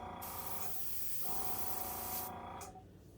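An airbrush sprays sepia paint onto a homemade fishing bait, giving a soft steady hiss that briefly dips and swells in short bursts, close and faint.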